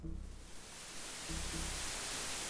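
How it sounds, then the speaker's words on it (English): Steady hiss of white-noise static from the DOS game Realms of the Haunting, loud and continuous for the whole stretch with a faint low hum beneath, no voices. "white noise"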